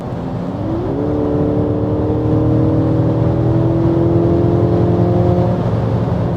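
A 2024 Mercedes-Benz E-Class W214 with a 2.0-litre four-cylinder engine pulls hard on the Autobahn, a loud steady engine drone rising in pitch as it accelerates, with continuous road and wind roar.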